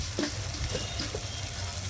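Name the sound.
Kashmiri chili powder spice paste frying in a pan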